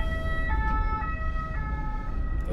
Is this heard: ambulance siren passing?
yes